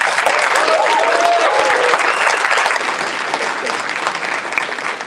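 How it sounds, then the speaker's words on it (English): Sustained applause from an audience at a graduation ceremony for marketing and innovation programs, loud and steady throughout with many hands clapping together, tapering slightly near the end. "please join me in thanking them with a round of applause"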